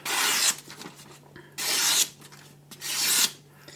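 A knife freshly sharpened on a 1000 grit stone making three slicing cuts, each a close, rasping rub of about half a second separated by short pauses.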